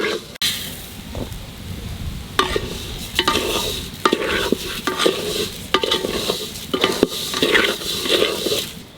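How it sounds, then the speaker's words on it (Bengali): Rice and mung dal being dry-roasted and stirred in a pot for khichuri, with steady sizzling and repeated scraping strokes of a utensil against the pot, close and fairly loud. "চালটা একটু বাজিয়ে নিছি, এখানে মুগের ডাল দিয়ে দেবো"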